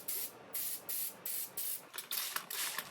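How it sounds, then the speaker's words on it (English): Repeated short bursts of a spray bottle misting water onto a mask, about eight quick hissing pumps in a steady rhythm, close by. "Now I'm spraying water on my mask to get it ready for the wash"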